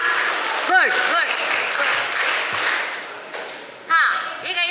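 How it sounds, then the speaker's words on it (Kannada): Children clap their hands at a women's association first-anniversary summer camp gathering, a steady, dense patter of applause running throughout, with voices of children and an adult over it and brief louder bursts near the end. "ಕೈ ಚಪ್ಪಾಳೆ ಕೊಡಿ ನೋಡುವ"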